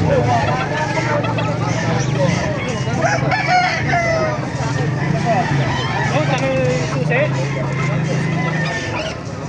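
A red rooster in Baliwag crows repeatedly among clucking fowl in a farmyard, loud and close, while people talk over the birds throughout.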